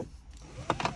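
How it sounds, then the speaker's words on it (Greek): A car seatbelt retracts quickly into its pretensioner housing, giving a short whirring zip with a couple of clicks, close and fairly loud against a quiet background. "Η ζώνη μας, αν παρατηρήσετε, μαζεύεται πολύ πιο γρήγορα"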